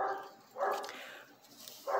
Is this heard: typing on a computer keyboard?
no